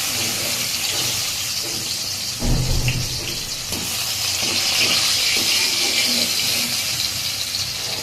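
Eggplant frying in a pan for a rohu fish curry, a steady loud sizzling hiss throughout with a few soft clinks and stirring knocks.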